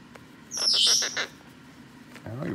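A blue-crowned conure gives one loud, shrill squawking chirp burst near the middle of a quiet indoor scene, with a faint voice sound at the end.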